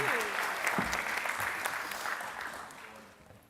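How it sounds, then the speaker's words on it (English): An audience at a startup accelerator showcase awards evening claps in a round of applause, a dense burst of hand claps filling the room and slowly fading, with faint voices underneath. "Okay, round of applause for Ronnie"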